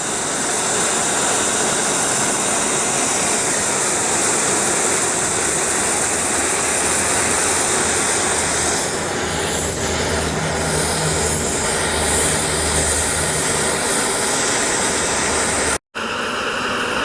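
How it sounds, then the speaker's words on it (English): A steady, loud roaring hiss of a lightweight camping stove burner heating half a liter of water in a pot, continuous throughout with a faint rising bubbling undertone. "we're going to see how long it takes to boil this ½ liter of water"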